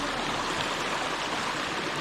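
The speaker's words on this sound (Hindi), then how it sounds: "वो ऊपर माउंटेन से पानी गिरता हुआ ऐसे इधर इधर इधर, फिर नीचे" Water from a mountain stream on the Kedarkantha trek, fed from snow above, rushes and splashes over rocks in a steady, loud, close broadband roar that never lets up.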